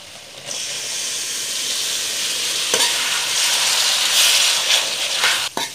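Mango pieces stirred into hot pickle masala in a pan for Kerala-style mango pickle, giving a loud, continuous hissing sizzle that swells toward the end, broken by a few scraping stir strokes and no speech.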